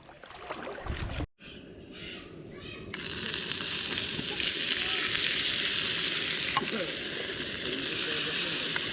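Food sizzles loudly in hot oil while cooking outdoors on Samal Island, a dense continuous frying hiss that swells after a short pause and holds steady to the end.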